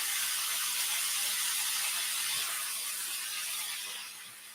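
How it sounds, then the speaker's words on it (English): A steady bright sizzle of a stir fry in a hot pan, close and continuous, fading slightly toward the end. "There, you can start to hear it sizzle."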